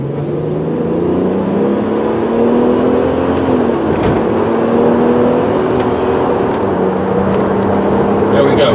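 A white 2003 Ford Explorer Limited is floored from a turn, its engine rising in a loud, close drone as revs climb, drop at a gear shift, then climb again, with road and wind noise underneath.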